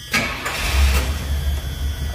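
A 1975 Pontiac Grand LeMans engine cranks with the key and catches, then settles into a steady, loud idle rumble close by.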